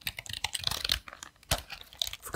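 Computer keyboard keys clicking in quick, uneven bursts of close, crisp taps, with a brief pause midway before the typing resumes.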